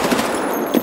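An MP5 submachine gun in the video game Escape From Tarkov fires a short, close, rapid burst of shots.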